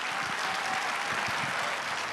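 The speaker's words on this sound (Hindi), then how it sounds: "वो कंपटीशन जरा तालियों में देकर बताइए।" Loud, continuous applause fills a large hall as a stage show audience claps steadily, a thick wash of many hands with no pauses.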